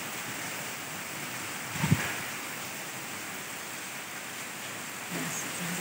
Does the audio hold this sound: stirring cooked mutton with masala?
no